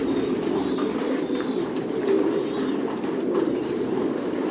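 Racing pigeons of a Johnson line in a loft, giving a steady, close cooing and rustling murmur that stays throughout with a constant low hum underneath.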